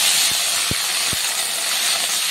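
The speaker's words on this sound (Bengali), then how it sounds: "কড়াইয়ে তেল দিচ্ছি, তেলে তেজপাতা দিচ্ছি, ক্যাপসিকাম কুচি দিচ্ছি।" Bay leaf and chopped capsicum fry in hot oil in a wok, giving a steady, close hiss broken by three soft low thumps in the first second.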